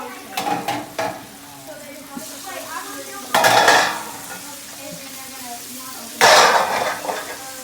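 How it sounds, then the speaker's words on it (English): Metal domes lifted off steaks on a Blackstone griddle, making sharp clanks and scrapes followed by loud bursts of sizzling as steam escapes, over a steady background fry. "We're going to pull the domes off."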